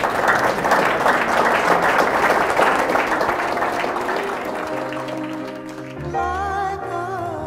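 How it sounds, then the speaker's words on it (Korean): Audience applause for a foundation chairman, a full burst of clapping that fades over several seconds as music rises underneath. "우리 박수 한번 쳐드릴까요?"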